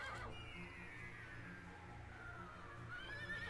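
A horse neighs and whinnies in the PS2 video game Dragon Quest 8, a game sound effect over a steady low background hum, with a rising whinny near the end; no talking.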